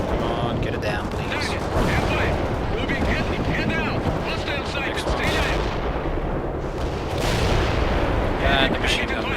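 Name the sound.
machine gun fire in the video game World in Conflict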